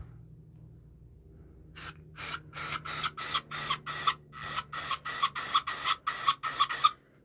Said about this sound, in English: We have my deodorant. Or should I say spray?